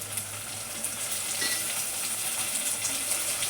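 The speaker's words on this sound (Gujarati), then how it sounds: "હવે ડુંગળી સળી રહેશે તો આપણે ટમેટા નાખીએ" Steady, bright sizzle of onions frying in a pan for kadhi as tomatoes are added, a continuous close hiss with small crackles and no talking.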